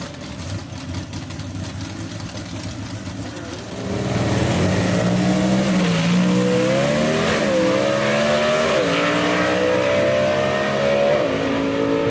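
A Southeast Gassers drag racing car roars down the Union Dragway strip, its engine rumbling at first then surging loudly through rising revs and gear changes as it makes a full pass, with no voices.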